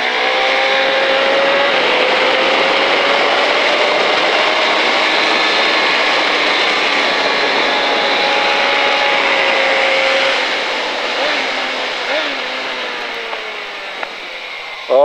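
KTM Superduke 2005 motorcycle on the Pau race track, accelerating hard with a loud, steady engine drone that rises in pitch and holds strong before easing slightly near the end.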